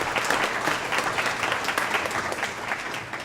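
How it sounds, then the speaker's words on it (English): An audience at an Armed Forces Day event applauds for the U.S. Air Force, a dense, steady round of clapping from many hands that holds at an even level throughout. "Round of applause for the U.S. Air Force."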